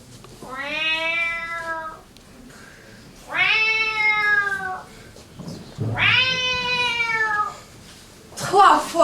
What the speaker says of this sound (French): Trois fois le chat a miaulé.